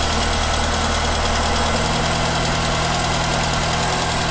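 A 1.1-litre petrol car engine with a carburettor runs at a steady idle, loud and close with a constant mechanical drone and a faint knocking rhythm, with no voices.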